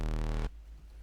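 A static Serum synth patch with no coarse pitch modulation, built for a halftime sound, holds a steady, bright, buzzy harmonic note for about half a second, then cuts off abruptly, leaving only a faint low rumble.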